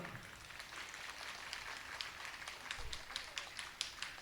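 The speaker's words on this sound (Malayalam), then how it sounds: "കയ്യടി പോരാ, നമ്മൾ കുറച്ച് പേരേ ഉള്ളെങ്കിലും നല്ല മുറുക്കി കൈയടിച്ചോ" Small audience at a women's gathering clapping their hands, a faint, fairly thin round of applause from a handful of people that picks up slightly toward the end.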